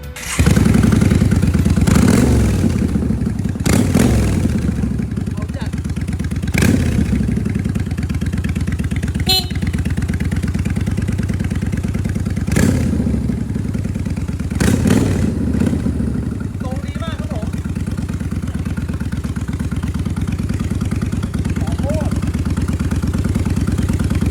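A 2016 Yamaha Bolt R motorcycle engine rumbles loudly after starting, settling into a steady idle with a few sharp revs and some clattering over the low drone.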